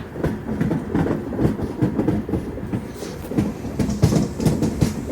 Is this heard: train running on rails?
yes